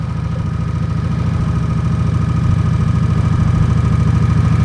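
A motorcycle engine runs steadily and loud close by, its low rumbling drone rising slightly in intensity midway as the throttle is twisted, with no talking over it.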